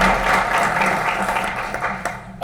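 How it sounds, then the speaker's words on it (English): Sustained audience applause fills a room at a middle school student council recognition breakfast, a steady wash of clapping throughout with no one speaking over it. "Let's give another round of applause, shall we?"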